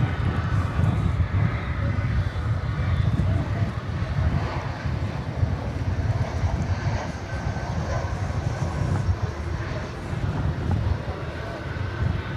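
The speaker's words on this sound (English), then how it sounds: "Arriving there was American Flight 2100 coming in from Kansas City." An American Airlines airliner, Flight 2100 from Kansas City, arrives at DFW Airport, its engines a steady broad roar somewhat distant, holding evenly throughout without speech.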